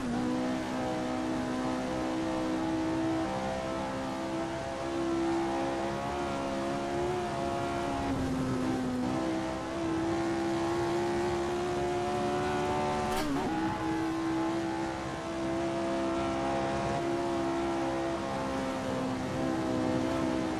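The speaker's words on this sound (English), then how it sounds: "I am currently driving the Lotus 49 around the Nordschleife in" Lotus 49 racing car from the video game Assetto Corsa lapping the Nordschleife, its engine droning steadily and loudly with shifting pitch throughout, a brief sharp change partway through.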